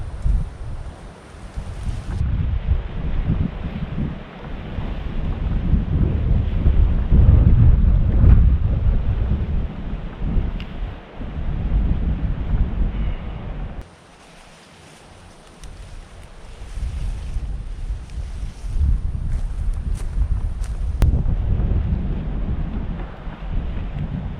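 Wind from a thunderstorm buffeting the microphone over an outdoor raised bed garden, loud gusting roar with deep rumbles that swells, drops briefly, then returns.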